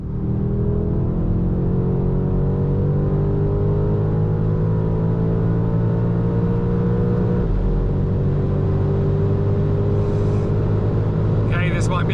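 A new BMW M5 pulling hard at high speed on the German Autobahn, with a sustained engine drone whose pitch climbs steadily under heavy wind and road roar, loud and continuous from inside the car.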